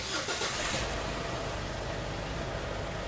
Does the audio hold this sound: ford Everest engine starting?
yes